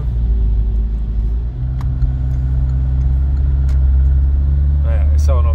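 A Renault Laguna III 2.0 dCi diesel, its engine still cold, drones steadily with a low, even rumble while driving, with a few faint clicks and a brief voice near the end.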